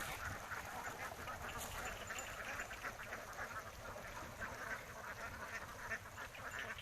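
A flock of laying ducks quacks steadily and continuously in rice-field surroundings as they are driven out to forage on grass and insects, the calls near and dense with no pause.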